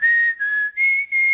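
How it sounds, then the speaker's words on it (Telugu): A person whistles a short tune in four sustained, clear notes separated by brief breaths, loud and close with no other sound. "ఏ విజిల్ అంత బాగుందా?"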